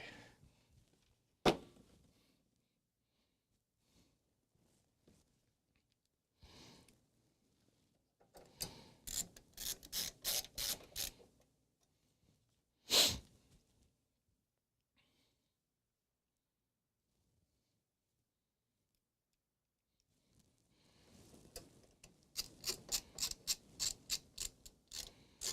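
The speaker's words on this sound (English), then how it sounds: "there's the hard drive screws. All right, stubby screwdriver because it has Phillips." A stubby Phillips screwdriver backs the hard drive screws out of an IBM 5160 PC in short bursts of rasping, ratcheting turns with quiet gaps between them, close and fairly faint, with no talking.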